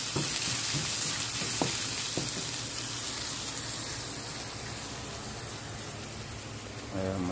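Onions frying in a pan for a tilapia dish, a steady close hiss and crackle of sizzling oil with occasional stirring clicks, heard alone without talk.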